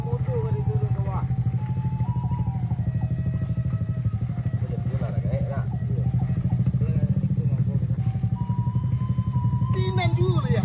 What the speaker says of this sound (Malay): Ada orang motor kan turun ke bawah.